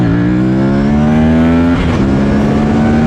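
An Aprilia RS 457 motorcycle engine on a race track rises steadily in pitch under hard acceleration, dips briefly at a gear change, then climbs again, loud and close with constant wind roar.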